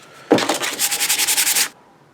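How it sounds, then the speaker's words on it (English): Sanding a 3D-printed part by hand: one close, fairly loud stretch of steady back-and-forth rubbing strokes in quick rhythm, beginning abruptly and stopping after about a second and a half. "give it just a little bit of sanding"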